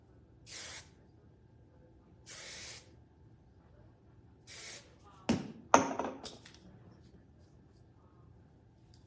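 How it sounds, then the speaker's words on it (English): A can of hairspray hisses onto hair in three short, evenly spaced bursts, followed by a few louder knocks and rustles near the end. "I'm just gonna put a smidge of the hairspray that we sell on"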